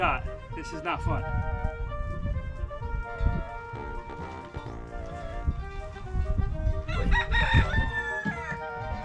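Backyard chickens being caught by hand on a farmstead, loud agitated clucks and squawks close by with a rooster crowing, while people talk over the commotion.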